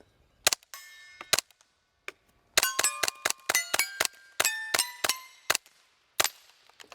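A H&K G36 rifle in .22LR fires at steel targets about 75 yards out, each sharp crack followed by a bright ringing clang, a few spaced shots then a rapid string of about a dozen, loud and close.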